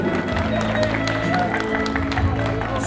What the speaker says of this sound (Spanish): Le brindamos un fuerte voto de aplausos.